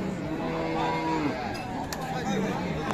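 Cattle moo at a busy rural livestock market selling cows with calves, with several drawn-out lowing calls rising over a constant murmur of crowd chatter.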